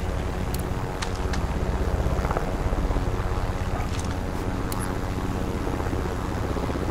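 Helicopter in the video game Call of Duty: Modern Warfare, a continuous low rotor chop and engine drone that stays steady and fairly close, with a few faint clicks and interface blips on top and no voices.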